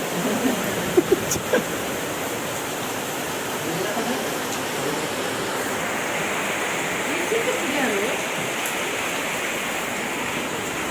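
Steady, even wash of rain falling outdoors, a dense broadband hiss with no clear drops standing out, heard alone with a few faint knocks near the start.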